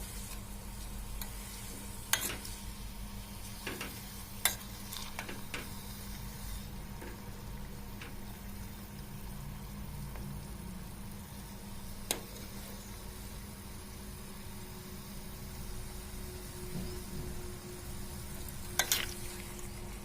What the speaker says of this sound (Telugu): బాగా మరిగించుకుంటూ ఇట్లా కలుపుకుంటూ మరిగించుకుంటుంటే